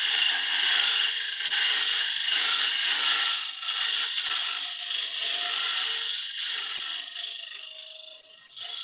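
Steady, continuous scraping of a teardrop cutter against spinning wood on a woodturning lathe, smoothing roughness from the inside of the piece, a bright hissing rasp that holds fairly even and close throughout.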